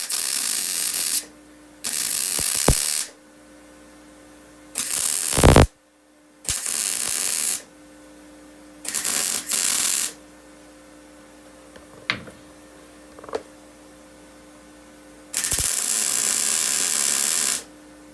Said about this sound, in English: I'm actually going to just weld straight onto this flat surface